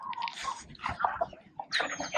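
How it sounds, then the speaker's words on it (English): A white farm dog close by, giving short snuffling whines, soft yips and breathy noises in quick irregular bursts. "That dog, the white dog, is Ellie."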